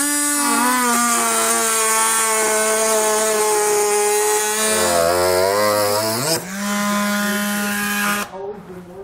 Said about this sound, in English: We'll then use a cutoff wheel to cut this out.